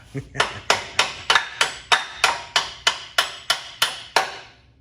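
About a dozen sharp, ringing hammer blows on metal in a steady rhythm, close and loud, each strike decaying quickly before the next, during 1955 Chevy suspension and crossmember assembly.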